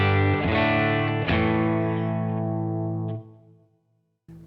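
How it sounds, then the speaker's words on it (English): A clean electric guitar plays through a Matchless amp: a ringing chord, then a second strum, sustains for about three seconds and decays. A short note starts again at the end, with no talking over it. "the clean sound again sounds like this"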